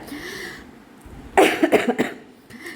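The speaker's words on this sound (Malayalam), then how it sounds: "അതാണ് ഇടയ്ക്കിടയ്ക്ക് ചുമക്കണത്" A person who is ill after a fever coughs in a short burst of several harsh, close coughs, preceded by quiet breathy sounds.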